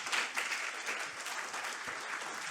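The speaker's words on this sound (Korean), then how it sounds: "다시 한번 큰 박수 부탁드리겠습니다" An audience applauds at a university presidents' seminar, with dense, even clapping from a crowd holding steady for a few seconds, moderately loud.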